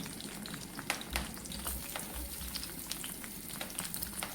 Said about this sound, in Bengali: এখন একটু হালকা ফ্রাই করে নিব